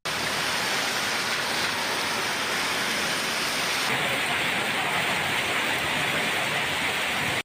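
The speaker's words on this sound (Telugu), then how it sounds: "ఈదురు గాలులు, ఉరుములు, మెరుపులతో కూడిన భారీ వర్షం కురిసింది" Heavy rain pours down steadily in Mahabubabad district, Telangana, during a storm with gusty winds, thunder and lightning, forming a loud, dense, unbroken roar of downpour throughout with no voices.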